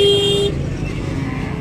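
A car horn toots loudly for about half a second over busy road traffic at a cattle market in Multan, followed by a low rumble of passing vehicles.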